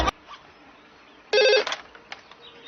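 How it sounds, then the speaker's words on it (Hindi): A telephone rings once in a short electronic trill after a brief quiet pause, with small clicks and faint room noise around it. "आदि फोन नहीं उठा रहा तू?"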